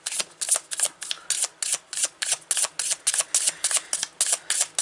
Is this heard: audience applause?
no